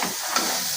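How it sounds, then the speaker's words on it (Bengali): Peas gently frying in a pan for khichuri, a steady soft sizzle and hiss with a brief stir, heard close and alone. "আলতো করে ভেজে নেবো মটর।"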